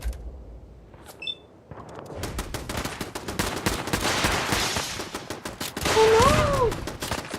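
Gunfire aimed at the player in the Fallout 4 Nuka-World DLC: rapid, dense bursts of automatic shots crackling for several seconds, with a few game beeps and whistling tones mixed in.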